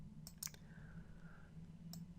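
A few crisp computer mouse clicks, spaced irregularly, sound quietly and close up in a silent room while someone works in Scratch 2.0.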